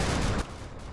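Video game gunfire rattles in a dense burst of shots that cuts off abruptly partway through, followed by a quieter noisy tail.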